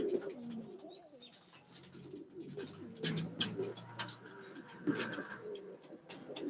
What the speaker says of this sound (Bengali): এই যে এই পায়রাটা এসছে